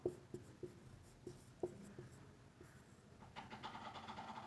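Chalk or marker tapping and scraping across a board in a physics lecture on units, a series of short strokes and taps at irregular intervals, fairly quiet, with a denser scratchy passage of writing near the end.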